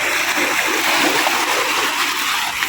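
Water splashes and pours continuously during bathing, a loud, close, rushing splatter with no clear speech over it.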